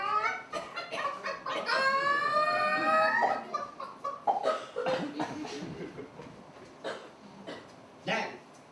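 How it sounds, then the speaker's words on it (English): Hens cluck, and one rising, drawn-out rooster-like crow is heard on a stage set in a pantomime farmyard. Short clucks and squawks follow amid voices and bursts of noise. "Olivia, go and see if the royal hens have laid any eggs"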